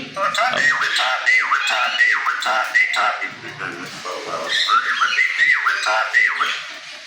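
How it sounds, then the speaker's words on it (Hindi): A pet myna bird gives a busy run of squawks, whistles and chattering, talk-like calls, loud and close, repeating almost without pause. "कैमरा में जैसे ही आगे मैना की तरफ लाता हूँ तो बोलना शुरू करती है"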